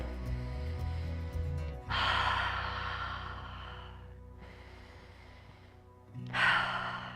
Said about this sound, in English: Let's take a couple cleansing breaths here.